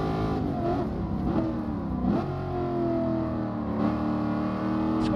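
BMW car engine in the Gran Turismo Sport racing game, revving steadily with rising and falling pitch sweeps, continuous and fairly loud throughout with no talk.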